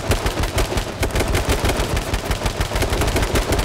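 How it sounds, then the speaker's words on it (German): Rapid automatic gunfire from the battle royale game H1Z1: King of the Kill rattles loudly and continuously in dense, close bursts, with no voices over it. "Ich sehe ihn, ich schieße."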